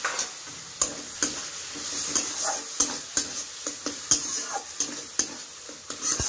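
Chicken and vegetables sizzle in a pan as a little water is added, producing a soft continuous frying hiss punctuated by regular sharp scraping clicks of a spatula stirring.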